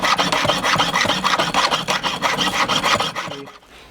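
A hand saw cuts through metal stock for a ring in quick, steady back-and-forth strokes, close and loud, about a dozen rasping passes before it stops.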